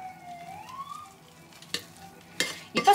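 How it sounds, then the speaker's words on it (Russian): Pumpkin pancake batter mixed with green buckwheat flour being stirred in a bowl, giving soft scraping and a few sharper clicks toward the end over a quiet background with faint tonal hum. "Перемешиваем."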